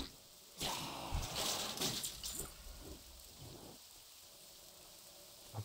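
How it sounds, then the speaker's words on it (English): Steady heavy rain in Lakeshire in World of Warcraft Classic, a constant hiss with bursts of louder downpour or rumble early on, settling back to an even wash. "It's just pissing it down all the time."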